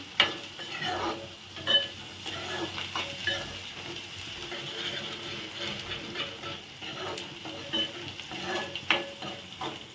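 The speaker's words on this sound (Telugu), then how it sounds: "ఈ అల్లం పేస్ట్ అది కొంచెం ఫ్రై అయింది కదా" Ginger paste frying in a pan while being stirred, a soft steady sizzle with intermittent scraping and light clinks of the utensil, fairly quiet and continuous.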